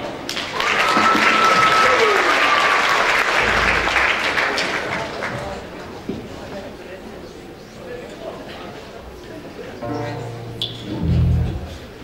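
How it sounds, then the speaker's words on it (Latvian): A crowd in Aizkraukle, Latvia, breaks into loud applause that gradually fades, followed by a few voices and light sounds afterward. "Ar aplausiem!"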